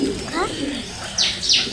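A pigeon feeding on chickpeas coos softly in a few short bursts, with brief chirpy notes and a faint flutter, while a child and an adult talk over it close by.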